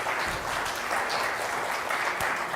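Audience applause for volunteers at a children's church Bible story session, a steady wash of many hands clapping throughout without pause, moderately loud and close.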